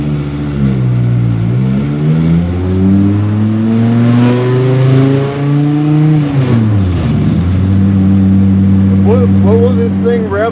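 An 800 hp 9.0 L V10 Plymouth hot rod revs hard from close by, its deep roar rising and falling through several pulls before settling to a throbbing idle, with voices talking over it.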